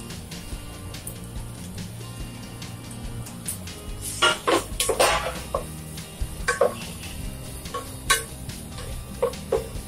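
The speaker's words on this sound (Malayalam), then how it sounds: "നന്നായി ഇതൊന്ന് വഴട്ടിയെടുക്കാം" Chopped onion sautéed in a pan for a home-cooked lunch, giving a low background sizzle broken by sharper clinks and scrapes of a utensil against the pan, some bunched in short bursts, with no speech.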